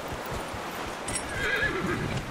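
A horse in the video game Dragon Age Inquisition gives one clear whinny, rising and falling, over soft hoof clip-clops, with no speech.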